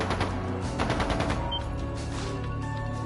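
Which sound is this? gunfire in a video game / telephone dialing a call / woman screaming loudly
gunfire in a video game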